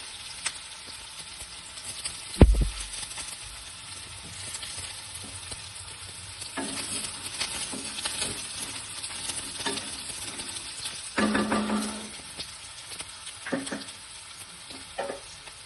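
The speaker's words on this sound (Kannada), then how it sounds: "ಇವಾಗ ಈರುಳ್ಳಿ ಎಲ್ಲ ಫ್ರೈ ಆಗಿದೆ." Onions frying in a pan for ridge gourd curry, a continuous quiet sizzle with occasional scrapes and clinks of stirring, including a sharp knock early on.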